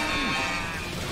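A cow-like Gekko enemy in Metal Gear Rising: Revengeance lets out a short, loud, wavering moo-like bleat over a dense game soundscape, with no speech.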